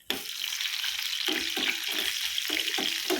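Fried onion tempering (baghar) sizzles as it is poured into a pot of soup, a loud, steady crackling hiss close by with a few brief bursts of stirring or pouring, no voices.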